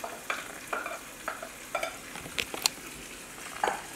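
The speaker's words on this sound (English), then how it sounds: "Peppers are in there, and now the mushrooms. And we're going to let this saute" Peppers and mushrooms sauté in a pan for fried cabbage, with a soft sizzle under repeated stirring and scraping strokes and a few sharper clinks of the utensil, and no voices.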